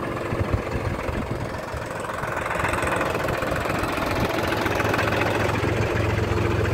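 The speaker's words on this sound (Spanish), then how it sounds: "ahí veremos cómo trabaja el implemento con el tractor Sonalica 60RX." A Sonalika 60 RX tractor engine runs steadily with its implement engaged, a loud continuous diesel drone that builds slightly and holds at a constant working pace, with no talk.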